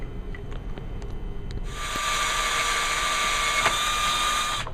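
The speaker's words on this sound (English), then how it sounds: "Now we've got our hole drilled" A power drill bores a hole in a motorcycle handlebar, starting after a few quiet seconds of light handling noises and then whining steadily and high, close by and with no talk.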